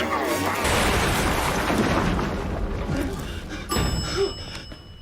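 Cybermen explode in the Doctor Who episode "Closing Time": a loud, rumbling blast with crackling debris that settles, followed by a second sharper burst near the end.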